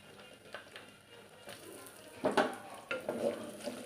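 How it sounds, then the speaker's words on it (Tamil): Fenugreek seeds and garlic cloves sautéing in sesame oil, a low steady sizzle with several louder bursts of crackle and stirring, near and without speech. "வெந்தயத்தையும் பூண்டையும் நல்லா வதக்குவோம் அந்த எண்ணெயிலேயே"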